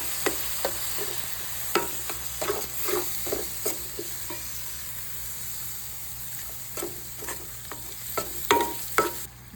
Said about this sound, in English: I'm going to add my tomato puree that I made